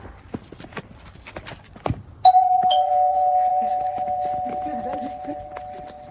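An AI-generated doorbell sounds one sustained electronic tone that holds steadily for several seconds, following a few sharp knocks or footstep-like clops at the start.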